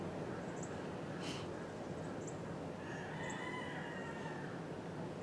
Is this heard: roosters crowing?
yes